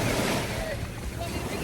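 Open-water waves churn and wash in a continuous, loud rush mixed with wind buffeting the microphone, while people talk close by.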